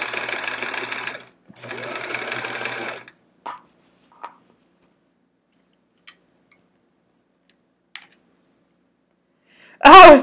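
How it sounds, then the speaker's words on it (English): A sewing machine stitches the back of a quilt in two steady whirring runs, followed by a few isolated clicks and a loud final burst, heard up close with no talking. "I'm just sewing and trimming off excess."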